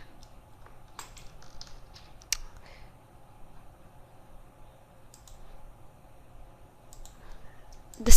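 Computer keyboard keys clicking in short irregular bursts as a URL is typed into a Firefox browser, close and dry with quiet gaps between keystrokes.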